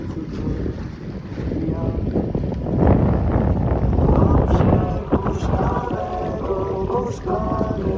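A Sasanka Viva 700 sailboat under way on Lake Śniardwy in Masuria in July. Steady wind rushes over the microphone above a broad wash of water, swelling slightly midway, with a few faint creaks and knocks.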